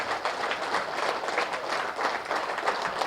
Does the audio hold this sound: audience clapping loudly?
yes